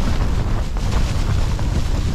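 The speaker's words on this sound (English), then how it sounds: "there is some hellish gusts coming through" Strong wind gusts roar across a microphone on the Great End summit in the Lake District during a storm, a loud, continuous low rumble and buffeting with no voice over it.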